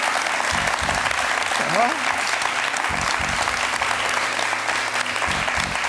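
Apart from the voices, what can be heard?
audience applauding after a hypnosis demonstration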